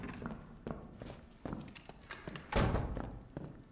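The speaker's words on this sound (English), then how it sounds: "Did I hear footsteps?" Footsteps in the dark fantasy dungeon game Dark and Darker thud along the floor in an uneven rhythm, quiet and a bit distant, ending in one louder heavy step.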